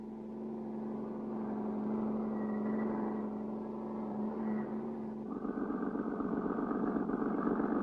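Engine of a cartoon car humming steadily at a moderate level, then turning rougher and more pulsing as it pulls away, with no voices over it.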